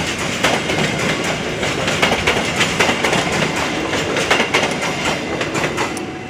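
A courier train rolls past on the rails at close range, its wagons producing a steady clickety-clack of wheels over the rail joints throughout, loud and continuous with no voices.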